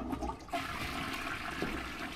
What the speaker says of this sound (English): I guess I'll flush it.